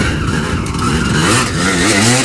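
Dirt bike engine revving hard while being ridden, a loud continuous buzzing roar with rising and falling pitch sweeps as the throttle opens and closes, close to the listener.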